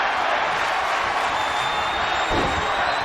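Arena crowd noise from WWE 2K22 during a wrestling match, a steady, loud roar of cheering that fills the whole clip with a brief swell near the end.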